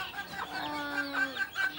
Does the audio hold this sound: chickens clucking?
yes